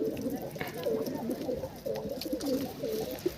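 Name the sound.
pigeons panting and cooing on a rooftop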